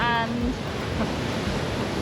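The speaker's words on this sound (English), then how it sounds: "the waves here are so crazy" Ocean waves at Mahana Point on Nusa Penida make a loud, steady wash of surf and wind noise, with a brief voice at the start.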